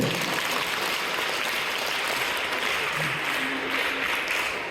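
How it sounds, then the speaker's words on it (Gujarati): A group at a summer camp applauds loudly for a boy named Dhruvgiri, a dense, continuous wash of clapping that holds steady for several seconds. "જોરદાર તાળી ધ્રુવગીરી માટે"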